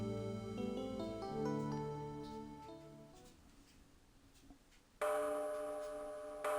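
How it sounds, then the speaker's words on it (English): A gong struck in the Phoenix Wright: Trials and Tribulations video game rings out loud and sustained after a stretch of soft game music, then cuts off abruptly. "Gong?"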